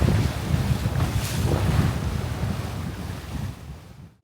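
Sailboat pushing through waves in a 12-knot wind at about 6 knots off Scotland's west coast near the Isle of Skye: steady wash of water against the hull under a rough layer of wind buffeting, fading away at the end.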